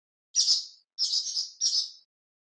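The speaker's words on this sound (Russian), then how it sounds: "Ласточка." A swallow calls three times in quick succession, high thin twittering notes, close and clean against silence.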